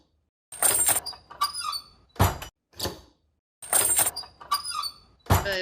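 A discarded metal gate used for foley squeaks and creaks in loud swinging strokes ending in dull clanks, the same sequence of groans and thuds performed twice, close up.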